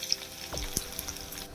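Cumin, dried red chilies, garlic and curry leaves sizzle in hot oil as a tempering for grated raw mango chutney, a soft, steady crackle heard alone with a few faint pops.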